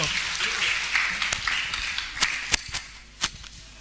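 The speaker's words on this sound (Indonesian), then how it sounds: "Tepuk tangan dong sekali lagi untuk Bobby." Campus event audience at a university applauds, a dense wash of clapping with a few sharp louder claps standing out nearby, under some voices and cheering.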